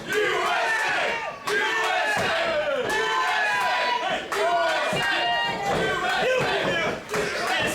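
A packed wrestling crowd at a PWA pro wrestling show cheers and chants for the U.S. Outlaw, with loud, sustained rhythmic yelling and shouting voices filling the arena close up.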